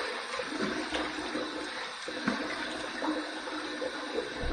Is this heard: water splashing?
yes